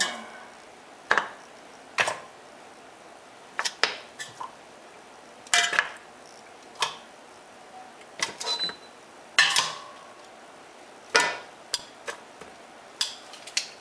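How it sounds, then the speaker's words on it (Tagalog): Beef ribs go into a pressure cooker for cheesy beef caldereta, a run of sharp metallic clanks and knocks about every second or two, close and fairly loud, with no one talking. "Ang susunod ngayon, bali i-pressure cooker natin. Ilagay natin yung ribs."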